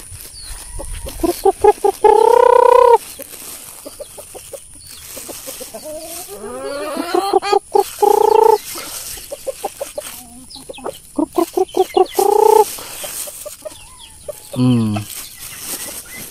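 Chickens on a farm cluck and squawk loudly and repeatedly while being fed, with several clear close calls spread throughout the clip.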